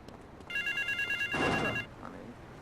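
An in-game telephone rings in Grand Theft Auto 3: a bright electronic ring pulses rapidly for about a second and a half, close and clear, over a low city background, with a brief burst of other game noise near the end.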